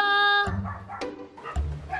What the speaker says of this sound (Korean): 강아지 네 마리야?